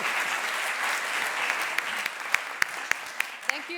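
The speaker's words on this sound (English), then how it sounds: "a big applause to all our colleagues" Conference audience applauding at an anniversary event, a broad sustained clapping from many hands filling the room, with some sharper individual claps standing out toward the end.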